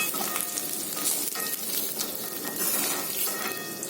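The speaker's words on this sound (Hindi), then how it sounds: "बॉइल्ड आलू को छोटे छोटे टुकड़े में काट के तेल के अंदर डालूंगी और इसे हल्का फ्राई कर लूंगी" Boiled potato pieces cut small fry lightly in hot oil, giving a steady close crackling sizzle throughout, with a faint clink of utensils and no talking.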